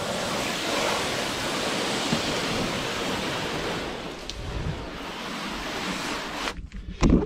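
A steady hiss of hose water rinses rinse-and-dry wax off a car, a loud, continuous spray that eases slightly near the end before brief bumps and a sudden stop.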